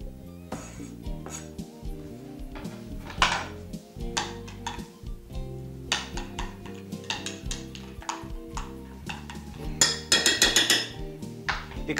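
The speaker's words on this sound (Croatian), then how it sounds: "Sada umiješamo šaku nasjeckane rukole." Chopped arugula being tossed into a warm chanterelle mushroom salad in a bowl, giving light clinks and scrapes of utensils against the dish, with a busier run of clatter near the end, set over a steady musical backing.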